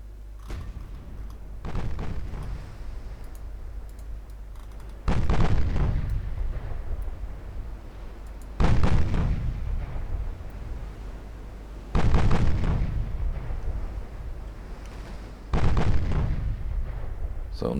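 Warship secondary guns firing in the naval strategy game Ultimate Admiral Dreadnoughts, four heavy booming salvos at roughly three-second intervals, each with a long rumbling decay, loud and alone.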